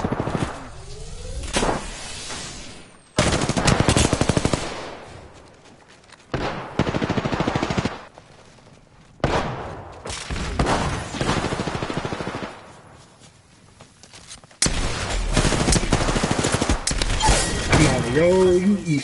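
Automatic weapon fire in the Apex Legends battle royale game, loud rapid bursts that start and stop repeatedly, with gaps between volleys and a game voice speaking at points.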